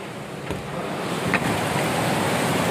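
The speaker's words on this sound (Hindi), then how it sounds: "बारिश रुकने का कुछ नाम नहीं ले रहा है, यहाँ पे बहुत ज़्यादा बारिश है" Heavy monsoon rain pours outside in Mumbai, a dense continuous roar with gusty wind noise, steady and loud throughout with no voices.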